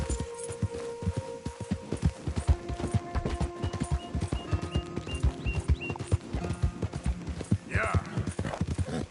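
Horse galloping in Red Dead Redemption 2, a steady, close, rhythmic clip-clop of hooves on the ground with tack rattling and a brief snort near the end.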